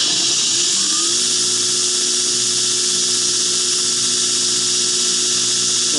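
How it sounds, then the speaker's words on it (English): A belt grinder cuts the plunge line on a knife blade, giving a loud, continuous high-pitched whine with steady grinding that holds throughout. "So I'm going to go back in there and cut the plunge"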